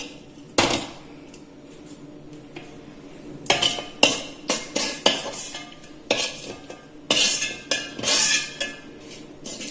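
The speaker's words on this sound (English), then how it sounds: "So let's transfer this garlic pickle into a jar." Garlic pickle being scooped from a pan into a jar, with repeated close metallic scrapes and clinks of a spoon against the vessel coming in uneven bursts, loud and without talk.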